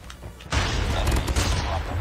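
A flashbang grenade detonates in the Call of Duty Mobile video game: a sudden loud blast that swells into a sustained, roaring wash of noise lasting to the end.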